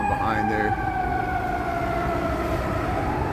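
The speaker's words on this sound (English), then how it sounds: "There goes the ambulance falling behind there." An ambulance siren wails on a Chicago street, its sustained tone sliding downward as it passes and recedes, moderately loud over steady city traffic noise.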